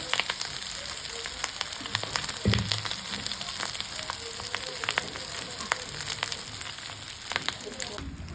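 An egg fries in ghee in a pan with a steady soft sizzle and crackle, broken by scattered pops and a brief clatter of stirring.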